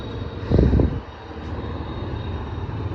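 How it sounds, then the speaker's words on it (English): A Northeast Regional passenger train led by a locomotive in 250th-anniversary livery rumbles past: a heavy low roar swells briefly, then settles into a steady broadband rush with no voices. "This is the Northeast Regional train."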